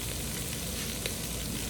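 Prawns and masala sizzle steadily in hot oil in a pan while cooking a prawn biryani, a close, even crackling hiss.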